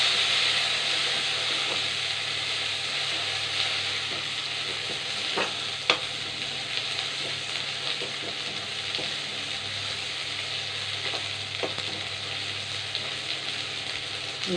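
Tomatoes sautéing in a pan for nookal sambar, a steady soft sizzle with occasional sharp stirring scrapes and clicks, close and even, no one speaking.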